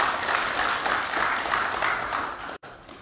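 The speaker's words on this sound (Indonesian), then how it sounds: "tepuk tangan dulu" A crowd applauds steadily at a public hearing with Indonesia's parliamentary Commission III, the clapping continuous and fairly close before a sudden brief cut.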